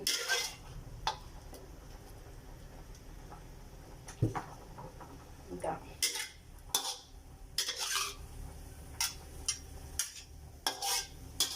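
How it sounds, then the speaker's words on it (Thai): Braised pork scooped into a pot of stewed pickled mustard greens flavoured with ginger and garlic: quiet, scattered clinks and scrapes of a utensil against the pot, some in quick clusters, over a low background hum. "เจ้าที่เขาจะตักหมูลงไปใส่ในหม้อตุ๋นนี่นะจ๊ะหม้อ"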